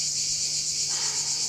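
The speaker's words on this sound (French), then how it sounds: "Le pire, c'est les criquets. Ils n'arrêtent pas de la nuit." Crickets chirping at night as a theatre play sound effect, a steady high-pitched trill holding evenly throughout at a moderate level, with no voices over it.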